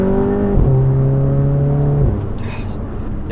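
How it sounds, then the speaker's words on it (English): Car with a DSG dual-clutch transmission accelerating hard along a back road, engine tone climbing then dropping sharply at a quick upshift around two seconds, loud and close from inside the cabin. "Let's turn on this back road and see about some DSG shifts."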